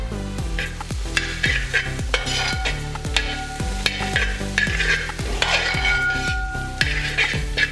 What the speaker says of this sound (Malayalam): നമുക്കിത് നന്നായി ഒന്ന് ഫ്രൈ ചെയ്തെടുക്കാം.